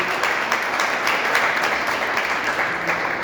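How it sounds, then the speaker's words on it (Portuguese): Sustained applause from a church congregation honoring the mothers during a communion service, a steady dense clatter of many hands throughout with no one speaking over it. "dê uma forte salva de palmas para as mães aí"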